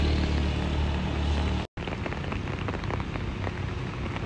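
Rain pours onto a road on a steep uphill climb during an afternoon downpour, a dense steady hiss with a brief dropout midway and no voices.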